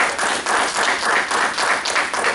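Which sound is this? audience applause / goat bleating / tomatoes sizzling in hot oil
audience applause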